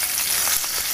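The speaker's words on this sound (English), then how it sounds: "we sprinkle in the hing, it will sizzle a little bit" Hing, cumin and ajwain seeds sizzle in hot oil for an Indian dish, giving an even, close, continuous hiss and crackle with no voices.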